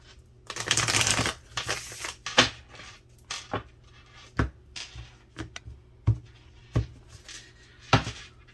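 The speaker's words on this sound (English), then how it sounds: "One more shuffle here." A deck of tarot cards is shuffled close up, first in a dense riffling burst, then in a string of separate sharp slaps and flicks spaced about half a second apart.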